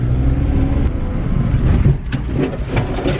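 A BMW E36 Touring pulls hard in second gear, its engine roaring loud and close with a steady low drone for the whole stretch and no voices over it.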